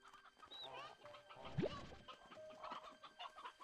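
Chickens in the video game Slime Rancher 2 cluck and squawk in a quiet, soft mix of short calls with one rising squawk, fairly near and without talk.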